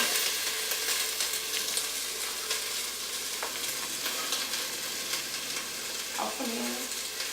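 Onions, carrots and celery fry in a pan, producing a steady, fairly faint sizzling hiss throughout with a couple of brief utensil knocks.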